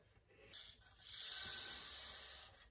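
A hand-cranked wheat grinder grinds dried wheat grains, giving a sustained gritty, rasping crunch that starts abruptly and runs steadily near the microphone, with no talking.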